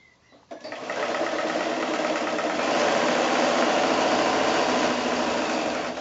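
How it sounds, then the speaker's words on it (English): Sewing machine chain piecing quilt fabric squares, running in a steady continuous whir with a fast mechanical stitching rhythm after a brief quiet start, close and fairly loud. "I'm just going to keep sewing."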